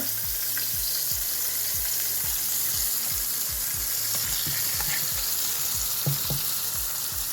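A breaded pork chop sears loudly in a pan on high heat, producing a steady, close sizzle and crackle with a few faint scrapes and no talking.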